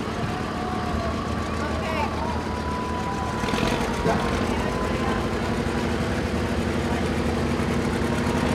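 A 1958 John Deere 820 tractor idles at a lighted tractor parade, a steady low engine chug running under nearby crowd noise and someone talking over a loudspeaker.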